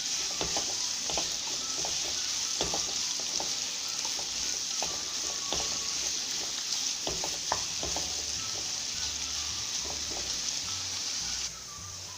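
Sliced onions fry in hot oil with a continuous bright sizzle, punctuated by regular scraping knocks from a stirring spoon, alone with no talk.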